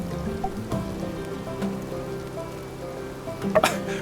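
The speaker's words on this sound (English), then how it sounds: "This is your first rain in Sandrock, isn't it?" Steady rain patters in the desert town of Sandrock in the video game My Time at Sandrock, a continuous soft hiss with scattered drops and a few brief louder clicks near the end, alongside low background music.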